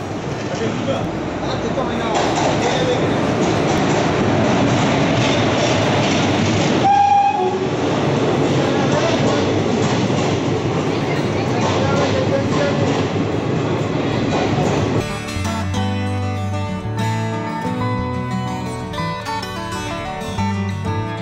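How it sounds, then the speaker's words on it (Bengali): A train pulls into a platform at Rampurhat Junction, with a loud continuous rumble and clatter and a brief horn partway through, heard close under a voice before music takes over near the end. "আর দেখো ট্রেন এখানে এন্ট্রি নিয়ে নিয়েছে।"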